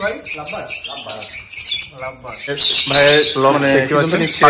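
A flock of lovebirds at a home bird farm squawks and chirps loudly and close by in bursts, with people talking among the calls.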